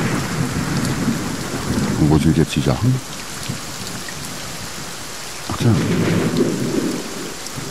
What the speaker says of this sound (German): Ich glaube, ich muss bei mir bei dem Regen ein bisschen leiser stellen.